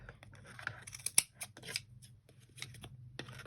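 Scissors snipping yarn threads on a WRMK tassel loom, a series of close, crisp cuts in an irregular rhythm, with quiet rustling of the threads between them.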